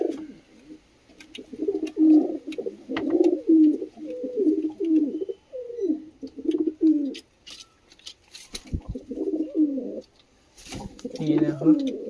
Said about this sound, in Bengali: এইটা হচ্ছে আন্ধ্রা পায়রা,